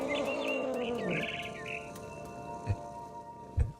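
A bird gives a quick run of bright chirps, close and clear, then falls silent, leaving faint background noise and two soft thumps.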